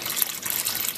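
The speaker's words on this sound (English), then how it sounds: "So I'll pour back in" Filtered, room-temperature water pours steadily back into a goldfish tank, a continuous close splashing gush with no voices.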